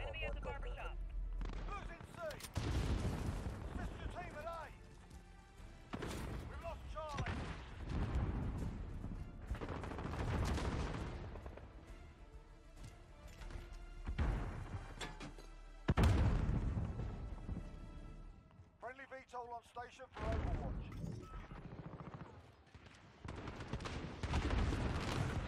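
Repeated bursts of hip-fire gunfire in the video game Call of Duty Modern Warfare, with rapid shots, booms and crashes through the whole stretch, mixed with a player talking over the action.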